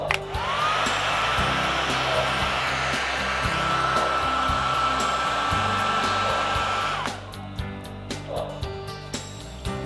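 A hair dryer blows steadily to dry fresh airbrushed paint on a Broadway Limited NYC J-1e Hudson steam locomotive model. The whoosh is loud and close, running for about seven seconds before it cuts off, followed by quieter handling clicks.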